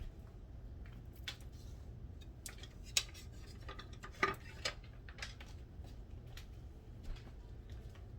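A dollar store spatula stirring vegetables in a pot for chili, giving quiet, sparse scrapes and clinks against the metal, fairly close over a low steady background hum.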